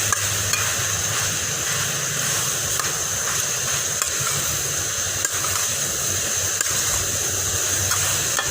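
Kale greens frying in a pan, a steady broadband sizzle and hiss with faint stirring scrapes, continuous and close throughout with no talking.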